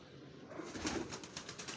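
Pigeons in a loft give soft, low coos in a couple of brief bursts, with faint background rustle and no talk.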